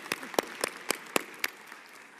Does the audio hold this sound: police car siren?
no